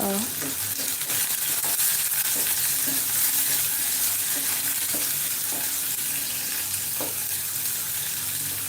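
Red onion frying and sizzling in a pan while being stirred with a utensil, a steady close hiss with soft scraping strokes, cooking for a green peas curry.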